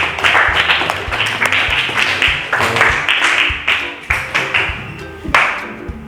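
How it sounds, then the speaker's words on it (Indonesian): A classroom of students claps for a classmate named Diva in a sociology lesson, brisk close-up clapping in uneven bursts with a few loud individual claps standing out, and some murmuring voices underneath. "beri tepuk tangan untuk Diva"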